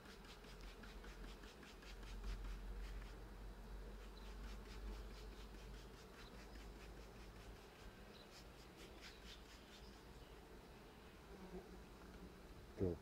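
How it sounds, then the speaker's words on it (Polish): Honeybees buzz around a hive frame while a colony is split, a steady, dense droning hum close by with no talking, ending with a brief sharp noise. "Proszę zobaczyć, jest tu dosyć ładnie tych pszczół."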